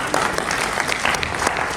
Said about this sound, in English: If you agree with me, please clap for me.